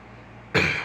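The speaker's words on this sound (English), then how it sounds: "I'm kind of coughing a little bit." A single short cough bursts out near the end after a moment of quiet background hum.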